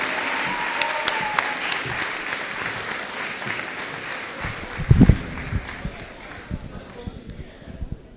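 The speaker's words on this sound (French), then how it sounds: "Veuillez une fois de plus applaudir chaleureusement nos finissants de 2021 et" Audience applause at a grade 12 graduation ceremony for the classes of 2021 and 2022, a steady wash of clapping filling the hall with scattered louder bumps, voices faintly mixed in.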